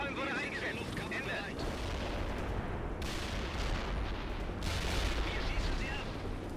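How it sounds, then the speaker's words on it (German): Napalm strike explosions in the video game World in Conflict, a dense, continuous roar of blasts and rumbling fire with sharp bursts throughout, loud and sustained, with radio-style voices over the din. "Napalm wurde eingesetzt!"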